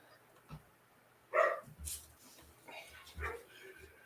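Dogs barking outdoors on a summer day, a few short barks and yips scattered at moderate distance, with no one talking.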